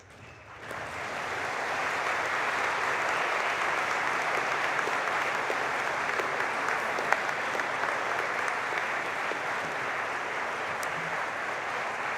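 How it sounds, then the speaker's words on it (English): Graduation audience for the School of Biological Sciences and School of Earth and Environment gives a warm, sustained round of applause for family and friends, a dense steady wash of clapping that starts abruptly and holds evenly throughout with no speech. "with a warm round of applause, join me in thanking your family and friends who are here"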